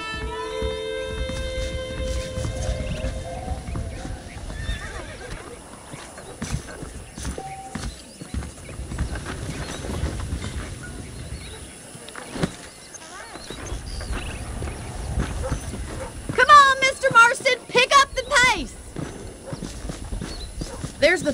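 Horse hooves clip-clop steadily through most of a Red Dead Redemption scene, with a brief whinny, music and a voice talking over the walking rhythm.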